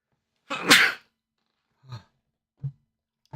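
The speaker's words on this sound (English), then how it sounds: "About to sneeze again." A single loud sneeze bursts out, followed by a few soft short breaths or sniffs in otherwise quiet surroundings.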